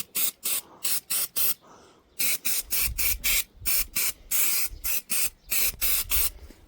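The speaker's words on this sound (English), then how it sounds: "let's put a bit of brake cleaner on there" Brake cleaner sprayed from an aerosol can onto a 1938 vintage tractor, fired in a rapid series of about fourteen short, loud hissing bursts with brief gaps between, heard up close and without talk.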